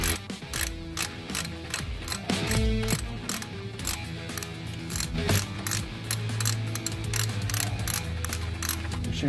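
A ratchet clicks rapidly as it works the single bolt on the serpentine belt tensioner of a 1996 GMC Sonoma 4.3, close and crisp in repeated bursts with metallic mechanism sounds and no talk.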